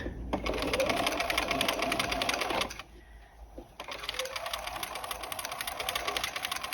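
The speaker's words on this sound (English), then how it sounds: "Again, we sew away for about 1/2 to 3/4 of an inch." A sewing machine stitches a collar and lapel facing, its needle running in a fast steady whir that pauses briefly near the middle and then resumes, close and continuous.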